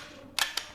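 A PCP air rifle fires with a sharp crack, followed moments later by a second, fainter snap, all very brief against a quiet background.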